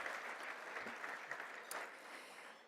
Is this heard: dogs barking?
no